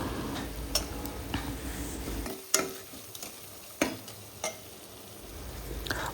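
Spices frying in a pan for mutton ghee roast, a soft sizzle with scattered sharp clicks and scrapes of stirring, close and fairly quiet, no talking.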